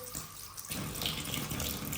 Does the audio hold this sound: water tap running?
yes